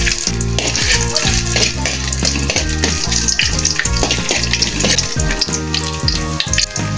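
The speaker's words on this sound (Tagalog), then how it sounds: "Maggisa tayo ng luya." Ginger sautéing in a hot pan for a Filipino pesa dish, a loud continuous sizzle and spatter with repeated clanks of a utensil against the pan, no voices.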